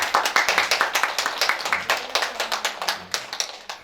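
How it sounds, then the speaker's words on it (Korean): Church congregation claps to welcome its pastor back from a mission trip to El Salvador and Colombia during a Sunday service, steady rhythmic clapping from many hands, close and lively, tapering slightly near the end. "우리 박수로 환영해 주시죠"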